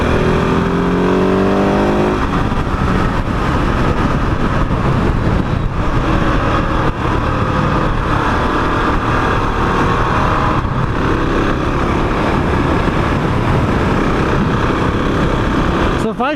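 A 2021 KTM 690 Enduro motorcycle engine runs steadily while riding, with a rising rev at the start and a constant loud drone with wind rush throughout, and a voice talking over it.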